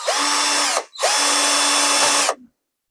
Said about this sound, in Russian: Намечаем первичное отверстие коротким тонким сверлом.